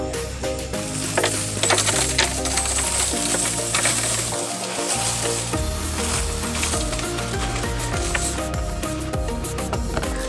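Loose coins from a piso wifi vending machine clink and rattle continuously as they are handled and sorted, a busy near metallic jingling with scattered sharp taps throughout.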